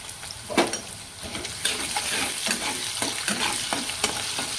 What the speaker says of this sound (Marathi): हे पण मी गॅस बारीक करूनच भाजत आहे कांदा